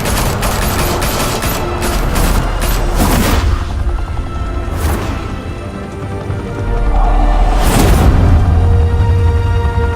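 Gunfire in the Telltale Batman series game: rapid bursts of shots and heavy booms crowd the first few seconds, then further loud blasts and rumbling explosions follow, dense and close.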